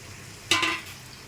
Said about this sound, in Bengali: মাছটা দিয়ে একটু মশলার সঙ্গে ভুনে নিতে হবে।